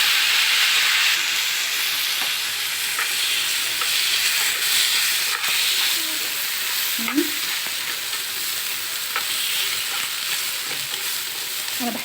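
Rice stirred into a pan of frying vermicelli browned to a reddish colour, a steady broad sizzle with scraping spoon strokes and a few sharper clinks, close and continuous with no talking.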